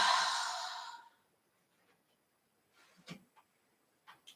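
A single deep, breathy exhale during a slow yin yoga session, loud at first and fading out over about a second, followed by near silence and a few faint soft sounds.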